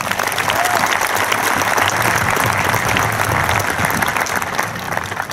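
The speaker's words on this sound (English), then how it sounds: "Let's give him a round of applause." Applause from the crowd at a high school graduation ceremony, dense and loud, sustained evenly throughout.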